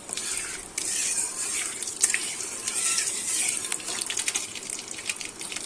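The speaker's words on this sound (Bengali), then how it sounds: "ফোড়নে 5 ফোড়ন দিয়ে দেব, দিয়ে একটু নেড়ে নেব।" Five-spice tempering crackles and spits in hot oil in a wok, a close, busy sizzle with sharp pops scattered throughout while it is stirred.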